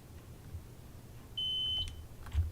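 A sharp, thin electronic warning beep sounds in the Train Sim World 2 video game on the NY Harlem Line, with one steady tone over quiet train-cab rumble and a few faint clicks.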